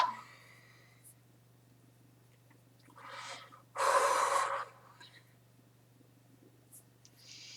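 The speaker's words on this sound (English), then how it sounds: "So breathing in and out." Slow meditative breathing in and out during a guided chakra session, with a soft audible inhale and a louder, breathy exhale standing alone over a steady low hum, followed by quiet.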